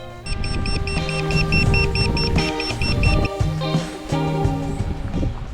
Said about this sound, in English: a small signalling device given to us at the Lobster Pot started flashing and beeping